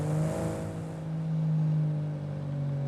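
A Toyota Supra engine drones steadily in the BeamNG driving game, a close, continuous mid-pitched hum with slight swells in loudness and no talking.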